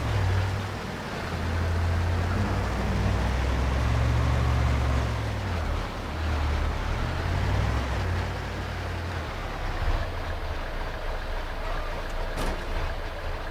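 A tractor engine drones steadily in the farming game Farming Simulator 25, a low continuous rumble whose pitch rises and dips slightly as the machine works on sloping ground.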